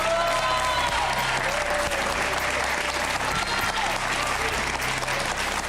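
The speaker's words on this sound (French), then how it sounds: "Alors vous pouvez applaudir Christelle avant qu'on lui donne la parole." A studio audience applauds steadily and densely for the whole stretch at an even level, with a few voices faintly under the clapping.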